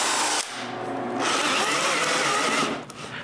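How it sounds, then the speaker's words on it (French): A drill bores a small hole into the center of bearings in a woodworking shop, its motor whirring up loudly, cutting with a gritty buzz, then cutting off briefly before spinning again. "Je perce donc un petit trou au centre des roulements."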